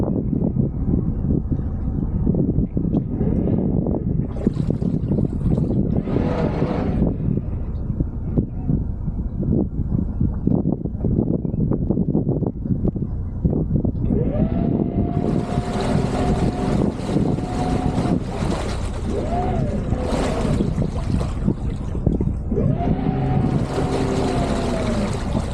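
A motorboat with bow and stern thrusters docks in wind, its engine rumbling steadily. Midway, repeated whining thruster bursts come in one after another, close and loud.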